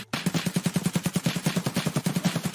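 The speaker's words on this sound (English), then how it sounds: "I think you're shooting me, bro." Rapid automatic gunfire from a multiplayer shooter game, a steady rhythmic burst of evenly spaced shots at close range, loud and continuous with no talk over it.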